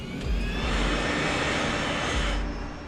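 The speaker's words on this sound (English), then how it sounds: "they prepare to taxi to the runway" A 27-year-old DC-9 jet airliner taxiing toward the runway, its steady, loud engine roar filling the whole stretch without a break.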